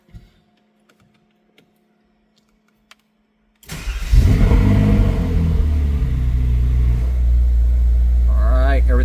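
A Ferrari engine cranks and fires after a few faint clicks in near silence, then settles into a loud, steady idle with a brief rise in revs.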